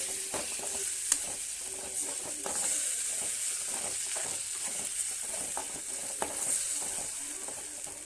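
Chilli sauce and leftover chapati mixture tossed in a hot pan, a continuous soft sizzle broken by scraping stirs and a couple of sharp clacks from the utensil, no talking.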